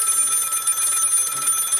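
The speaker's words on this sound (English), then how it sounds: "The phone is ringing." A telephone rings in the video game Lil' Guardsman: a steady, bright electronic ring that warbles rapidly and continues without a break for nearly two seconds, loud and alone.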